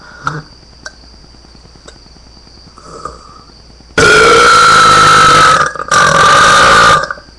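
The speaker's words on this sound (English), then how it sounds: "Wait, hold on. I have a big burp waiting now." A big, loud human burp lasting about three seconds, a long croaking belch with a brief break in the middle, following a few faint clicks and quiet room noise.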